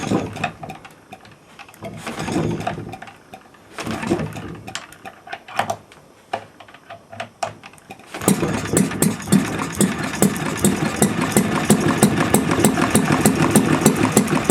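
A gas engine on an R&B unit sputters through irregular firing bursts and pauses, then catches and settles into a fast, steady, close-miked chugging idle for the rest of the stretch, with no speech.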